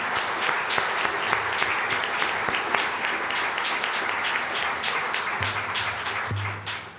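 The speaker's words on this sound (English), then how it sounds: "Shall we show our appreciation and applause?" Steady audience applause closing a League of Women Voters candidate forum, a full room clapping continuously at close range before thinning out at the end.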